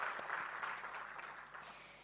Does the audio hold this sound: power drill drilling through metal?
no